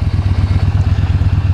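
A Yamaha Bolt V-twin motorcycle idles steadily nearby, its low engine pulsing in an even, throbbing rhythm with a slight mechanical clatter and no voices.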